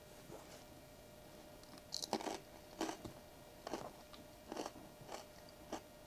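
Quiet crunching bites and chewing, several crisp crackly bursts spaced irregularly, close up with no talking.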